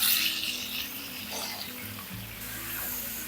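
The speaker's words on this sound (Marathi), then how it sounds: "आता आपण जे स्लायसेस करून घेतलेले आहे बटाट्याचे ते घालूया" Potato slices hit hot garlic-tempered oil in a pan over medium-low gas, giving a close, steady sizzle and frying crackle with light stirring, no talk over it.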